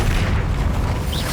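A deep, rumbling fiery burst in the video game Hogwarts Legacy, from the Incendio fire spell being cast. It is loud and sustained across the whole short moment.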